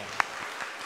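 Brief, fairly faint applause from a church congregation during a service, an even patter of many hands with one sharper clap near the start.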